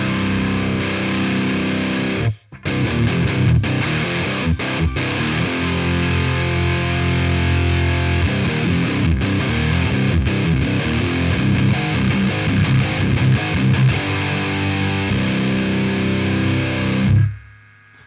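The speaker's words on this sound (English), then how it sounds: "Let's add some distortion" Electric guitar played through a Biyang DS12 distortion pedal, a loud, sustained, fuzzy crunch with chords ringing for most of the stretch and a brief drop near the start.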